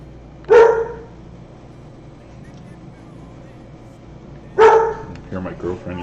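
A pet dog gives two sharp single barks several seconds apart, fairly close, with faint speech-like sounds and clatter after the second bark.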